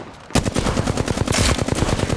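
Rapid automatic gunfire from Apex Legends bursts in suddenly and hammers on in a fast, even stream of loud, close shots with no talking.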